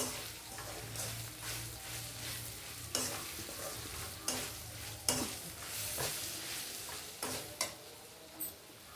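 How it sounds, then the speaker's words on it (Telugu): Karonda berries and red chillies frying in oil give a close, continuous sizzle, punctuated by regular scraping stirs and a few sharp taps against the pan. "చూసారా ఎలా వేగుతున్నాయో? చక్కగా వేగాలండి ఇవి."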